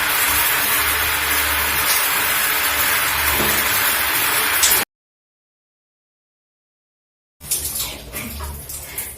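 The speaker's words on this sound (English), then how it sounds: "I'm just going to turn on my shower and I'm going to be using warm water to wash off the" Warm shower water running steadily, a broadband rush used to rinse off a homemade rice hair mask; the flow is interrupted by a few seconds of silence before resuming.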